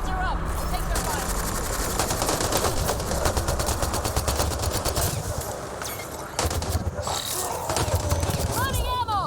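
Sustained enemy gunfire rattles continuously from start to finish in the sci-fi shooter Mass Effect Andromeda, loud and dense, with scattered sharp electronic chirps layered over the barrage.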